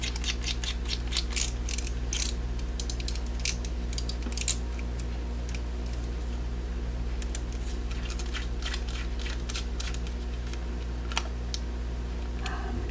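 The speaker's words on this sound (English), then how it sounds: "set them onto the 3 terabyte drive and put the screws back in" Small screws being driven back into the mounting on a 3 terabyte hard drive in a 2008 24-inch iMac, rapid clicking ratchet-like ticks in quick irregular runs over a low steady hum.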